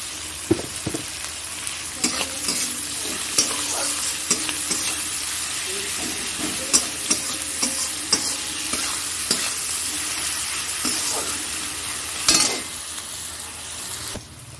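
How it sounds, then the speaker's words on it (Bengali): Onions with a pinch of salt frying in a pan for a fish curry, stirred steadily, with a continuous close sizzle and repeated scraping strokes and utensil clicks throughout. "দেখো পেঁয়াজটা লাল করে ভাজা হয়ে গেছে"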